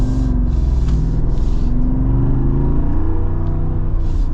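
A 2025 Jeep Wrangler 392 with its V8 engine revving, a loud, close, continuous throaty rumble that rises and falls steadily with no talking over it.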